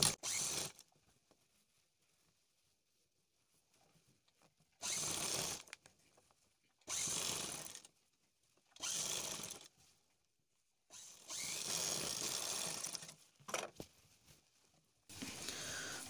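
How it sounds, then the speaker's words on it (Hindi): A sewing machine stitches around a kurti neckline in several short runs of busy mechanical whirring, separated by quiet pauses, with no talking. "हम सबसे पहले गले की तरफ सिलाई लगाएंगे।"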